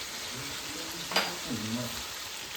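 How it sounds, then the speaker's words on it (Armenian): Meat fries in a pan, a steady close sizzle with a brief louder crackle and a faint scrape of stirring. "Սպասենք, մինչև միսը լավ տապակվի։"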